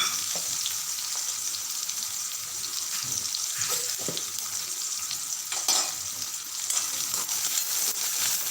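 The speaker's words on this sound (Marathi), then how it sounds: "त्यात जिरं घालायचं आहे आणि नंतर कांदा बारीक चिरलेला कांदा घालायचा आहे" Cumin and finely chopped onion fry in hot oil after mustard seeds have spluttered, a steady close sizzle broken by occasional spoon stirs and clinks, no talking.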